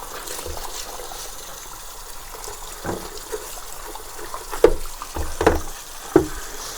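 Water trickling and splashing as Eheim Experience 250 aquarium filter parts are rinsed, with several louder splashy bursts toward the end over a soft steady background.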